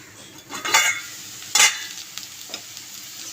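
Raw banana pieces with turmeric are stirred in a pan, giving two sharp scraping, sizzling strokes of a spatula followed by quieter clinks, close up and with no voices.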